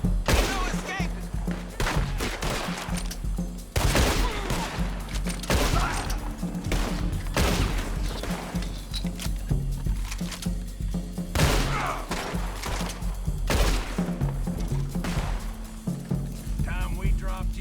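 Gunfire in the Red Dead Redemption 2 Online video game: a dense fusillade of repeated shots and heavy booms that runs almost without pause, with voices and other game sounds mixed in.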